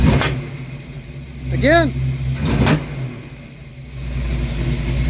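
A Ford Mustang engine, an old car worn enough to be nicknamed a piece of junk, sits close by under a steady rumble. Brief throttle stabs lift the revs twice before they settle back to idle, with people talking over it.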